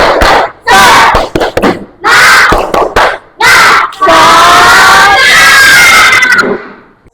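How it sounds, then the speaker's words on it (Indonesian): A classroom of students performs the tepuk semangat clapping chant, loud bursts of unison shouting broken by sharp group claps in a stop-start rhythm, building into a longer sustained cheer near the end. "Coba tepuk semangat dulu"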